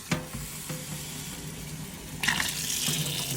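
Water rushes through a newly fitted Coway NEO water filter during flushing, a steady hissing flow with a couple of sharp clicks and a louder gush near the end.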